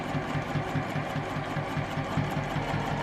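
A sewing machine runs steadily while stitching a back stitch on fabric for a quarter-inch seam of a sewn advent calendar, its rapid needle chatter continuous and close with no talking.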